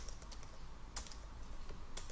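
Crisp clicks from a computer keyboard being typed on, sparse and uneven with a few sharper keystrokes standing out over a low background hum, heard alone with no voices.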